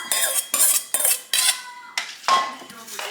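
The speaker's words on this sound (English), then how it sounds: "and we stir it up." A spoon scrapes and clanks around a pot of rice pudding in quick repeated strokes, about seven sharp metallic stirs close up with no talking.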